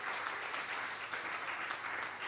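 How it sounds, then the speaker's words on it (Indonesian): A church congregation claps steadily during a worship service, the dense, even applause filling the room without pause and no voices standing out above it. "Yang mau tepuk tangan yang meriah buat Tuhan deh"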